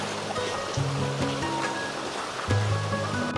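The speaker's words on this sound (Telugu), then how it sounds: "ఎక్స్ట్రా వాటర్ అనేది వీటి నుంచి వెళ్ళిపోతున్నాయి" Excess water rushes out through an open gate of the British-built Puligadda Aqueduct in Diviseema into the river, a steady broad wash of flowing water with a faint low hum beneath.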